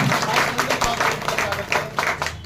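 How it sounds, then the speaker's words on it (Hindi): An audience at a public welcome ceremony claps loudly and continuously, a dense steady wash of applause that holds for the whole stretch. "एक बार जोरदार ताली बजाकर"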